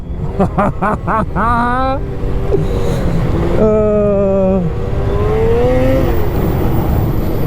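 A MINT 1200 snowmobile with 858 clutching blips its engine in quick sharp revs, then holds a long rising, wailing pull through deep snow. Loud and close, with voices heard faintly alongside.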